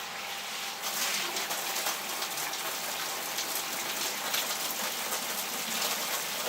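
Cold water splashes steadily into a bag to rinse a batch of live blackworms, a continuous close hiss of running water with no talking.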